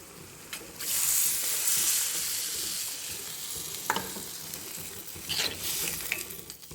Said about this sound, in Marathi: आपण ना ह्याच्यामध्ये हे पाणी टाकणार आहे